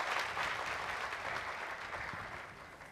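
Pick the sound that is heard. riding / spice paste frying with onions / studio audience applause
studio audience applause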